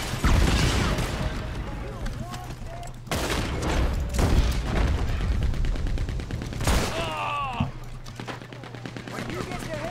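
Gunfire in the video game Red Dead Redemption 2: repeated shots and bursts across the stretch, loud and dense, heard alongside game noise and a steady low hum, with talk mixed in.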